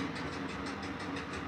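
An EU07 electric locomotive in the MaSzyna train simulator picks up speed, giving a steady, loud rumble of running gear with a faint repeating clatter every fraction of a second, continuous and without talk.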